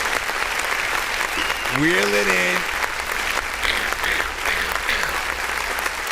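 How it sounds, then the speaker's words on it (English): Steady audience clapping on a music review show, a continuous wash of applause throughout with a brief spoken phrase cutting through near the start. "Just clap."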